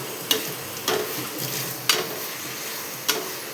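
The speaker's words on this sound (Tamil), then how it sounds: "அரைச்சி வச்ச மசாலா போட்டு வாசனை போக நல்லா கிளறி விடணும்" Ground masala for biryani is stirred in a pot, with four sharp spoon knocks against the metal spaced about a second apart over a soft, steady frying hiss, close by and without speech.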